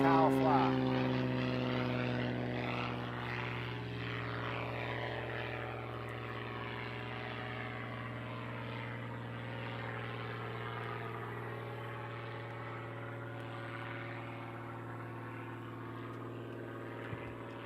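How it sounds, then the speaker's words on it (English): A Panzl aerobatic propeller airplane flies at an aerobatics competition, its engine a steady droning hum that sweeps in pitch as it passes and fades to a sustained distant whine. "Kyle's flying a Panzel"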